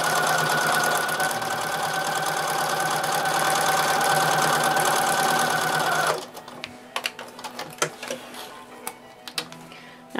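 A sewing machine stitches a paper-pieced quilt block along its marked stitching line, running a steady, loud, close whir for about six seconds before stopping and leaving only faint clicks and handling noises.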